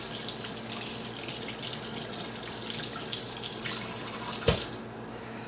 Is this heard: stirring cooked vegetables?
no